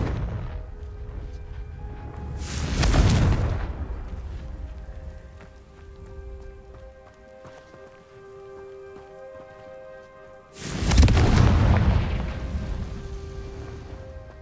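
Two heavy booms from the Confringo explosive spell in the video game Hogwarts Legacy land about eight seconds apart, each a loud crackling blast that fades into a rumble. Soft ambient game music fills the gap between them.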